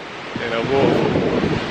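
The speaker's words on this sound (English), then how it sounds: "It's amazing the amount of wind that's created by the amount of water obviously falling down" Gusting wind stirred up by a large waterfall in Yosemite National Park, a steady, close roaring rush of air and falling water that swells slightly midway, with someone talking briefly over it.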